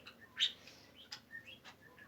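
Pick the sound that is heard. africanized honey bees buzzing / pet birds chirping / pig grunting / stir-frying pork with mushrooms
pet birds chirping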